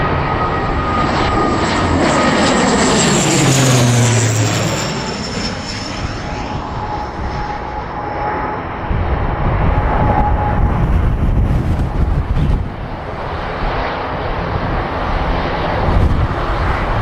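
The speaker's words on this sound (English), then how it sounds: "This Blue Islands ATR-72 shut down its right engine shortly after departure from Birmingham" A Blue Islands ATR-72 turboprop climbing out of Birmingham with its right engine shut down drones loudly and steadily, a broad engine roar with a sweeping pitch shift early on, heard alone and close.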